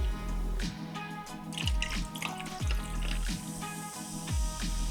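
A dark drink poured from a rig, heard as a close, steady liquid stream with gurgling and splashing, swelling and falling in a few surges.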